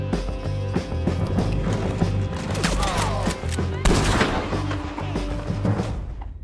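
Dense video-game gunfire as Sadie shoots, rapid overlapping shots and metallic clatter in a steady barrage, loud and close, with game sounds layered underneath.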